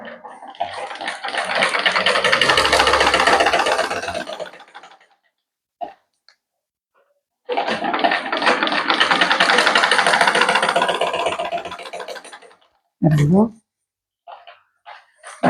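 A sewing machine stitches a shirt in two long, steady runs, each about five seconds, with a short pause between them and a few soft clicks and handling noises afterward.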